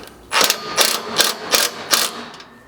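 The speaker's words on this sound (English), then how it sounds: "just snug it up for now with a 13mm socket." A ratchet on a 13mm socket snugs a bolt on a Toyota Sequoia slider bracket, five quick, evenly spaced bursts of close clicking.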